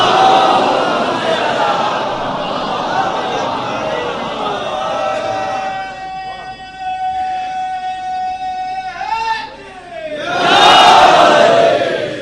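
A large crowd at a majlis roars a slogan chant together, loud and echoing, with a sustained tone running through the middle and another surge of voices near the end.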